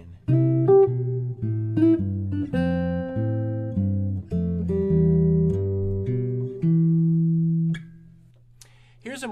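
Fingerstyle jazz guitar plays a melody over a walking four-to-the-bar bass line, steady plucked low notes under chords, close and clean, ending with a sustained note and a brief tap.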